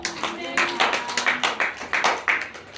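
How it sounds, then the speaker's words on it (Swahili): A church congregation applauding, a rhythmic run of fairly loud, steady claps in unison, close and evenly spaced, with voices faintly mixed in. "Pigie Yesu makofi tafadhali"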